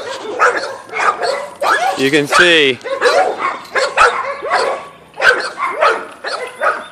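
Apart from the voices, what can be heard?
pit bulls barking around a house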